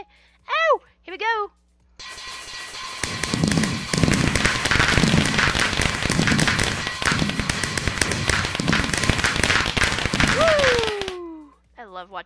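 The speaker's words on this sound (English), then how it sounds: "I love watching the fireworks." A dense run of crackling, popping Minecraft fireworks fills most of the stretch, rapid and loud like a barrage, bracketed by brief exclamations before and after.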